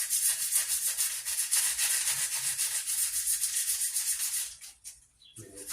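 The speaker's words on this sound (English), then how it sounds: "start sanding that part down" Sandpaper rubs by hand across the chrome front grille of a Lincoln Town Car in quick, even back-and-forth strokes. The close, steady scratching stops briefly near the end.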